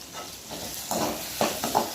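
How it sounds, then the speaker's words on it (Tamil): Chicken gravy being stirred in a pan after salt is added, with soft scraping swishes and a faint sizzle, rising to a few louder strokes near the end; no talking. "அதையும் நல்லா போட்டு கிண்டிக்கோங்க."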